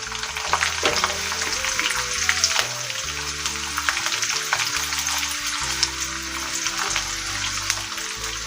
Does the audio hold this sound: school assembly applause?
no